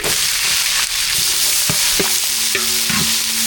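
Onions hit hot oil already holding dried red chilies, cumin seeds and curry leaves, giving a loud, continuous sizzle with several sharp spoon scrapes and clinks against the pan, close by and with no voices.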